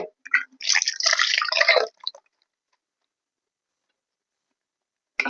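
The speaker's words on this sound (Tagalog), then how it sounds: "Tapos natin lagyan ng pangalawang gata." Second coconut milk extract poured into a cooking pot of ginataang santol, a short splashing, dribbling pour of liquid lasting about two seconds, close and alone, followed by silence.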